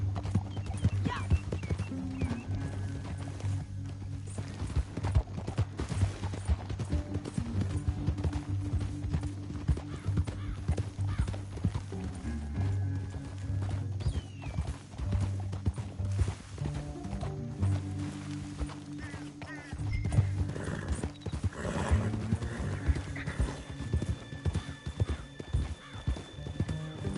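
Horses gallop in Red Dead Redemption 2, with a steady clip-clop of hooves and occasional whinnies running throughout under a continuous musical score.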